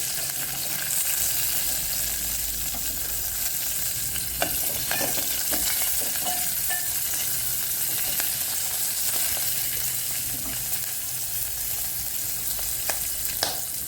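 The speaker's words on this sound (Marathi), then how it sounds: "आता आपण मिरच्या घेतलेल्या आहेत त्याही भाजून घेऊ" Seven or eight green chillies dry-roast in a pan with a steady, close sizzle and frequent scraping and stirring clicks running throughout.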